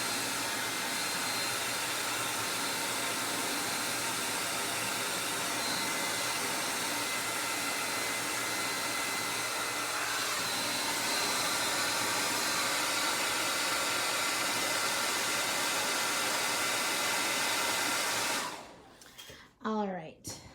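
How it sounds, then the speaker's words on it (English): A hair dryer blows steadily to dry acrylic paint on a canvas, a loud continuous whirring roar that runs for most of the clip before cutting off near the end. "I'm going to blow dry it real fast because I don't want to do anything over that white and yellow"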